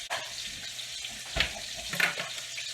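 Steak pan-searing in butter, oil and rendered beef fat gives a steady close sizzle with a couple of brief louder spits and scrapes partway through.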